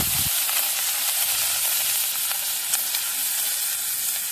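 Onion paste fries and sizzles in hot oil, kept in close, steady hiss with scattered scraping as it is stirred in the pan, no voices.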